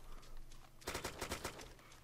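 Gunfire in the survival video game DayZ, a quick burst of several sharp shots fired in close succession, fairly faint and distant over a low background rumble.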